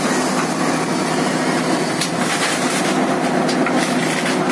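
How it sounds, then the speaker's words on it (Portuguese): A Volvo FH truck engine labours as the truck climbs onto a flatbed trailer, giving a loud continuous mechanical drone with rattling and whining overtones throughout. "Ele jogou o motor, os motores de tração para a parte de trás e agora está subindo."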